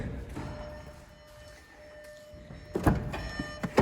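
A Volkswagen T-Roc car door thuds shut, with a couple of sharp knocks close by after a quiet stretch of soft mechanical hum.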